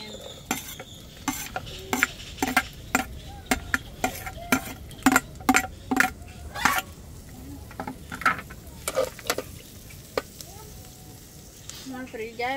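Carrots and corn kernels fry in a pan over a wood fire, a soft continuous sizzle broken by a steady series of sharp scraping stirs of a utensil against the pan, with some talk in the background.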